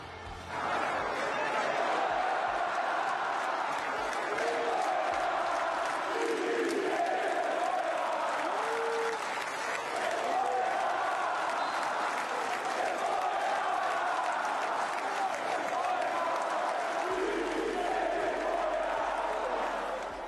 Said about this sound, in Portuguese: tivemos vaias em São Januário, vamos ouvir